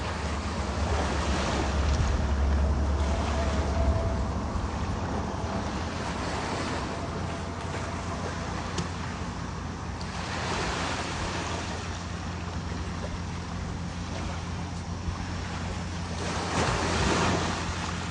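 Ocean waves breaking at a surfing spot where a dog is surfing, a steady roar of surf rising and falling in swells with heavy wind rumble on the microphone and no talk.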